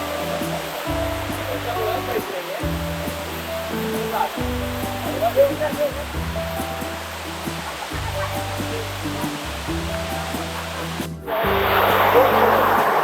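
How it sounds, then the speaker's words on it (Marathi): A waterfall on the jungle trail to Kohoj fort in Palghar roars as a steady, dense rush of water throughout, swelling louder and brighter in the final seconds. "रस्त्यामध्ये खूप असे सुंदर सुंदर मस्त धबधबे लागतात"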